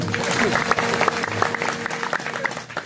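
An audience at a Marathi kirtan claps together in a dense, steady burst of applause, loud and close, with a voice talking over it.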